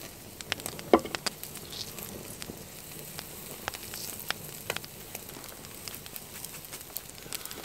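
Food frying over a fire at a snowy winter camp, with salt sprinkled on: soft steady patter and crackle throughout, with scattered sharp pops and one louder snap near the start.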